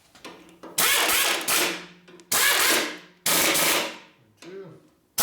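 A power impact tool tightens the fork suspension bolts on a 2004 Harley FLHT twin cam touring motorcycle, running on modest air pressure: four loud rattling hammering bursts, each about a second long with short gaps, close by.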